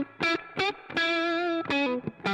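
An electric guitar played through the AmpliTube 4 amp simulator cranked to the top breaks up into thick distortion, with several loud sustained chords and short stabs alone, without talk.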